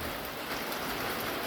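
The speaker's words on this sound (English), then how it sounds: "They're getting some rain on them." Steady rain falls outdoors during a light shower in the woods, a constant even hiss with no voices over it.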